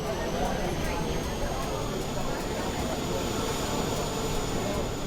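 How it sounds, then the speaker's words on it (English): The APU of an Airbus A320neo runs steadily in Microsoft Flight Simulator, a constant broadband whooshing turbine drone with a faint high whine, unbroken and close for the whole stretch. "That is the APU engine."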